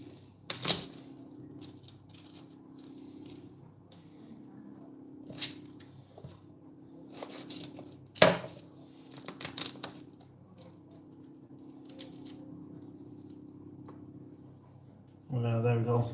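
Knife chopping the trimmed ends of prepared vegetables on a chopping board, a scattering of sharp, irregular cuts and taps over a low steady background hum, close by.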